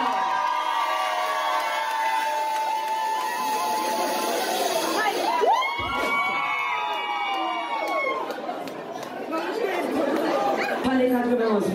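An audience at a live music showcase in Paris cheers and whoops loudly with continuous crowd chatter, while voices ring out over the noise.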